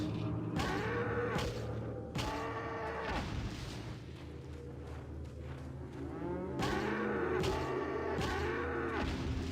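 Cows moo on a farm in Resident Evil 4 (2005), several loud, drawn-out lowing calls repeating one after another, with a heavy thump between them and no talk.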